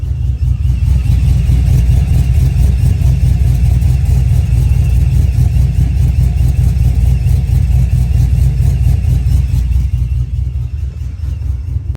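Small-cam car engine tuned with HP Tuners spark timing to give a choppy, lopey idle, rumbling loudly and steadily up close with a deep low thrum, easing slightly near the end.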